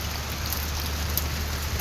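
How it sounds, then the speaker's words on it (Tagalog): Steady rain pours down, a dense continuous hiss with a low rumble underneath, no voices, fairly close and even throughout. "lumalakas-lakas na naman yung ulan"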